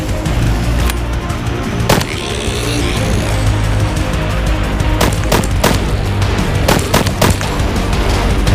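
Gunfire in a mobile zombie survival game: sharp single shots and quick bursts crack out irregularly over a constant low rumbling game background, loud and close, with no speech.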